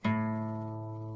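A single low guitar string, the fifth, is plucked once and rings on steadily, slowly decaying with no other sounds.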